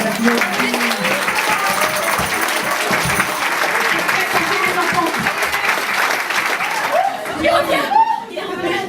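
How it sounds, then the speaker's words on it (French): A lively audience applauds at a children's stage show, with dense clapping, chatter and some laughter, and a few voices rising near the end. "On applaudit"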